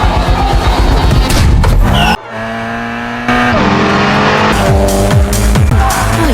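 Racing cars tear through a street race, with loud revving engines and repeated screeching tire squeals whose pitch sweeps up and down. A brief quieter stretch breaks the roar before it swells again, and nobody speaks.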